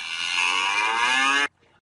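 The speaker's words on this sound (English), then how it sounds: "So what do you want to do with this cow?" A virtual cow in the Second Life online world, held in a chute during a veterinary medicine class, gives one long sustained moo lasting about a second and a half, loud and close, then cuts off abruptly into near silence.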